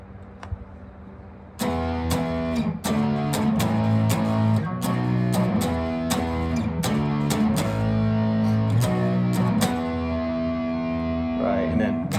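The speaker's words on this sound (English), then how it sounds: "With distortion, it sounds like this." A distorted electric guitar plays a rhythmic, looping riff with sharp repeated chord stabs and sustained notes, loud and close, starting after a brief quiet moment with a little talk.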